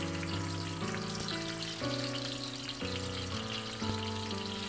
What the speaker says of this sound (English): So right now my oil is already hot. I'm just adding my chopped red onions.